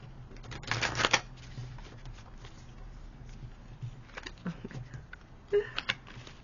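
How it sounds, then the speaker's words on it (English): A deck of tarot cards is shuffled in a few quick riffling bursts, soft and close, with brief pauses and light handling noises in between. "So I am going to shuffle the cards and we'll go from there."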